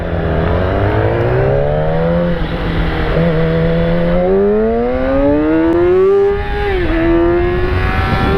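A motorcycle fitted with an EXUP exhaust valve revs continuously, the engine and exhaust note climbing and falling in pitch through several throttle swells, loud and close with no talk.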